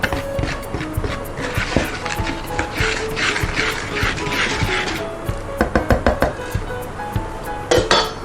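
Ingredients for a biscuit batter are mixed in a bowl, with a utensil scraping and clinking against the sides in quick, irregular taps and rattles, close by.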